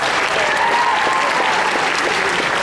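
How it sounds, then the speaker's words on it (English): A large convention crowd at the Otakon 2012 opening ceremonies applauds in a dense, loud, continuous roar of clapping with some cheering voices mixed in. "so give yourselves a round of applause"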